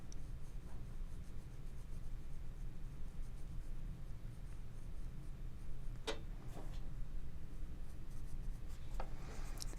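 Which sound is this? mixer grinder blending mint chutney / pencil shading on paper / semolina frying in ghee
pencil shading on paper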